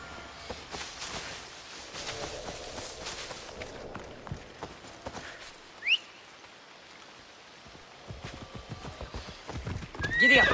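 A horse gallops in Assassin's Creed Odyssey with rhythmic clip-clopping hooves and a brief whinny midway, moderately loud, building toward the end with no speech.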